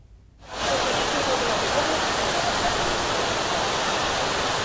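Heavy rain pouring down in Udaipur, Rajasthan, after three days of downpour, a loud, steady, dense roar that starts abruptly after a moment of quiet and continues unbroken.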